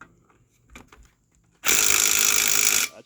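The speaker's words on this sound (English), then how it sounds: "Watch her put these lug nuts on right here." An impact wrench or similar power tool runs in one loud, steady burst of about a second while lug nuts go onto a wheel of a 1969 Dodge Winnebago, preceded by a few faint knocks and handling sounds.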